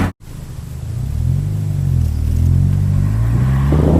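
A Subaru S206 fitted with Feal 441 coilovers pulls away on a test drive, its engine rumbling low and steady as it gathers speed, heard from inside the car.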